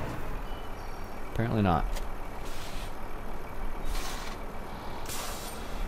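Air brakes hiss from a truck in Farming Simulator 2015, with bright bursts near the start and later broadband puffs over a steady low engine rumble, while someone briefly speaks partway through.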